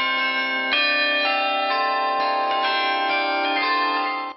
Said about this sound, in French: La guide nous fait également admirer le carillon tout neuf.